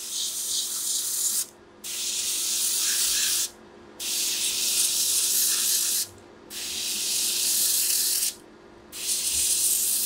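An airbrush sprays paint in four long, steady hissing bursts with short pauses between them, laying down a carbon fiber effect up close.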